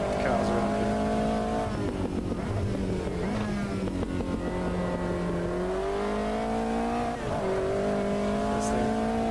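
Race car engine in the sim racing game Automobilista 2 screaming at high revs, continuous and loud with pitch climbing and dropping through gear changes.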